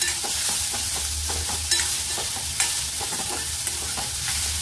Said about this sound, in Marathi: शिमला मिरची टाकूया, सगळं मस्त मिक्स करूया।